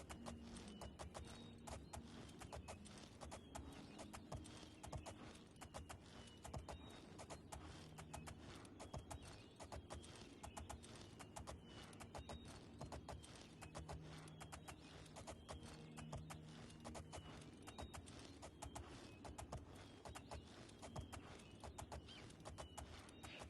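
A horse ridden in the video game Oblivion, its hooves clip-clopping in a steady, even rhythm with faint creaks, quiet and continuous throughout.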